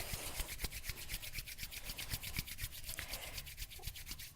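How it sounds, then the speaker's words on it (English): Palms rub together in quick, rhythmic back-and-forth strokes, a soft, close brushing swish repeating steadily for several seconds with no speech. "Rub the palms together."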